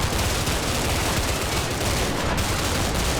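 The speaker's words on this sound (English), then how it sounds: "Firefight. BTR's getting shot to pieces." A firefight in the video game Combat Mission: Cold War, with a BTR armored vehicle under fire, roars as continuous dense gunfire, loud and unbroken throughout.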